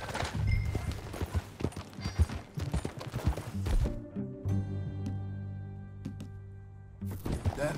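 Horse hooves clip-clop in the Red Dead video game, a steady rhythmic trotting heard close and clear for most of the stretch, mixed with game music and ambient sounds.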